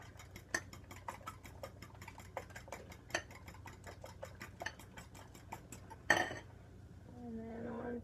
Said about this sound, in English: Now I just whip these 3 eggs up.